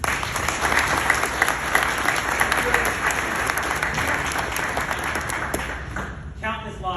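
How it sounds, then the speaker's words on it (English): Audience applause at a 50th anniversary ceremony honoring hostage negotiators, a dense steady clapping from a large crowd that continues evenly before tapering off near the end. "So please give a round of applause to all of you."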